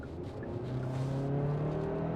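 2026 Hyundai Santa Fe with a 2.5-liter turbo engine and new transmission accelerating on the road: a steady engine hum that builds gradually in pitch and loudness, heard from inside the cabin without speech.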